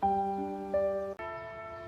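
Electronic school bell chime sounding two sustained ringing tones in succession, loud and close, with no talking.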